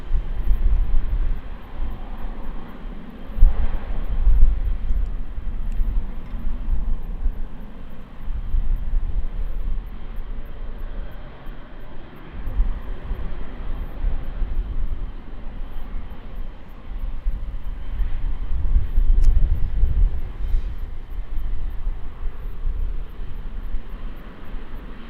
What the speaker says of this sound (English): So the aircraft SDC coming in from Barrier Island.